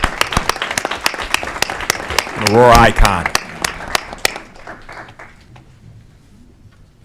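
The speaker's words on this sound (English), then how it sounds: "One more round of applause for the loved ones and the family of Dee Basille" An audience at an Aurora council committee meeting claps in a burst of applause that swells, peaks, then thins out and fades. A voice speaks over the clapping.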